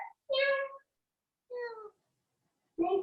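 Voices in an exercise class imitate a cat's meow three times, drawn-out nasal mews separated by short silences.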